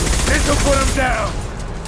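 Heavy automatic gunfire in the video game Mass Effect 2, a loud dense burst of rapid shots lasting over a second before tailing off into quieter combat noise.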